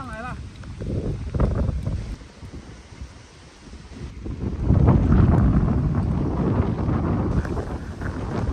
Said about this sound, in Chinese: 大风大浪来了。